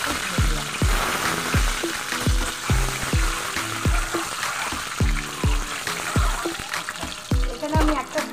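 Spices crackle and sizzle in hot oil as a tempering for a soya, egg and mustard-poppy dish. A steady hiss runs under rhythmic, knocking stirs of a spoon against the pan, heard up close.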